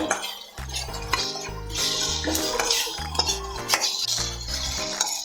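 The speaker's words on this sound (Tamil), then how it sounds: "இப்போ வந்து நம்ம வணக்கி வச்சுருக்கிற மஞ்சளையும் இது கூட மிக்ஸ் பண்ணிக்கலாம்." A utensil scrapes and clinks against a pan, stirring raw turmeric into sautéed tomato and onion, with repeated metallic taps and chinks over a few seconds.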